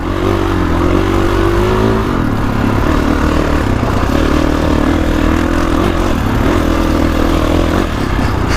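A 2021 Kawasaki KX450X dirt bike engine labours up a wooded trail over logs, loud and close, its pitch rising and dipping as the clutch is worked, with a brief drop near two seconds before it pulls again.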